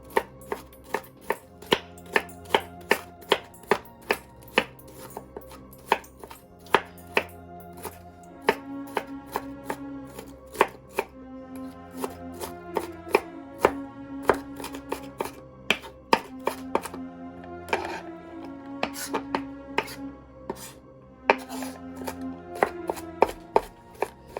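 A knife slices through food on a board with steady, repeated taps and cuts, near and fairly clear, under quiet music-like tones, while prepping ingredients for slow-cooked Impossible meatballs in an Instant Pot.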